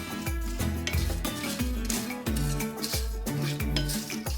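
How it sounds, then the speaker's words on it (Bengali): Whole spices and dried chillies are dry-roasted in a frying pan with repeated scraping strokes of a utensil, landing in a regular rhythm against a steady tonal background. "একটা ফ্রাইং প্যানে মশলাগুলোকে ড্রাই রোস্ট করে নেব।"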